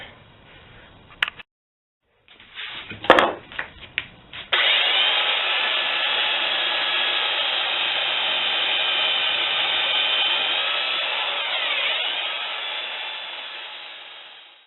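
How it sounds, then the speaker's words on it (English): A power sander grinds a bevel onto the edge of an axe head, starting after a few brief knocks and clatters, then running as a loud, steady whine that fades near the end. "using the sander, I put a nice little bevel edge on the end there"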